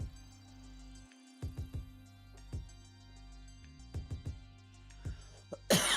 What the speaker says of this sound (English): excuse me while I cough a bit